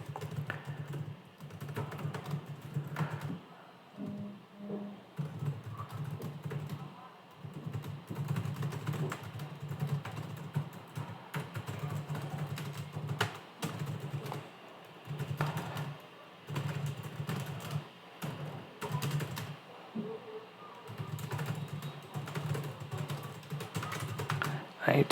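A computer keyboard typing a prompt into an AI text editor: a steady patter of soft key clicks with brief pauses, close and fairly quiet over a constant low electrical hum.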